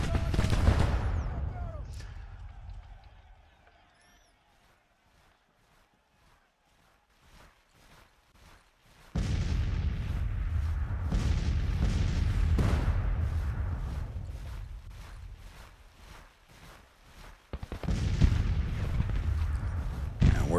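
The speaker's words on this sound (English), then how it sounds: "we're taking artillery fire" Artillery booms from a Civil War strategy game, Grand Tactician: The Civil War, arriving in loud bursts over a steady rumble, with players talking in between.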